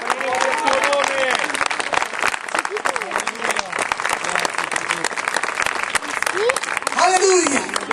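Loud, continuous clapping from a crowd at an evangelistic campaign meeting in Ragusa, with voices calling out and talking over it throughout.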